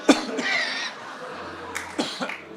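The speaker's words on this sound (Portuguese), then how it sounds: "Vou tossir para ela ficar com pena de mim." A man gives a few deliberate, staged coughs during a church sermon, short bursts spaced across a couple of seconds with faint room noise and a low hum between them.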